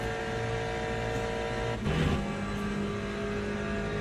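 A race car engine drones steadily in a racing game at Circuit de la Sarthe, a constant mid-level hum with a brief gear-change or shift burst near the middle, no voices.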